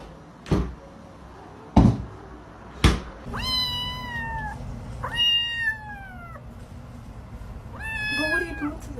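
Several drawn-out domestic cat meows, clear and fairly close, follow three sharp knocks or thumps like a cupboard or door banging, with no talking over them.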